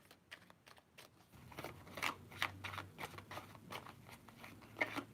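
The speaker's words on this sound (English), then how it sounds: "I'm just going to shuffle the deck" A deck of tarot cards being shuffled by hand: soft, irregular riffling and patting bursts, close and fairly quiet, with no talking.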